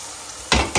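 Onions frying in a pan, a steady sizzle with two short louder bursts of stirring near the end.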